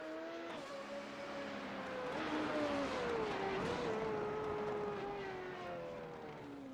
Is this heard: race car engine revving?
yes